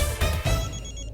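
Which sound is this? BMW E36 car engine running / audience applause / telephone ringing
telephone ringing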